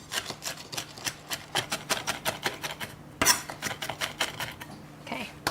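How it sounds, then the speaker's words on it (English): Walnuts being broken into small pieces for homemade waffles, a rapid run of sharp, close clattering knocks and rattles in an uneven rhythm, loud and alone with no talking. "You just want to break the walnuts down to small pieces."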